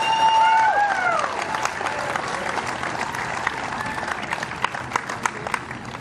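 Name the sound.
audience applause at award ceremony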